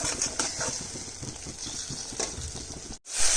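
Spice masala for a vegetarian soybean curry sizzles and crackles in hot oil while being stirred, a continuous close frying hiss with scraping stirs, briefly cutting out near the end before resuming louder.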